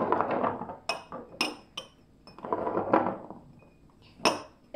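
Drinking glasses shuffled around on a table, a series of bright clinks and knocks in irregular rhythm, close and clear with quiet gaps between.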